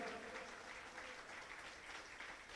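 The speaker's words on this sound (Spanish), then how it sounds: "Dele aplauso al Señor." Steady applause rises from a church congregation praising the Lord, a continuous wash of many hands clapping together at an even, moderate distance with no pause.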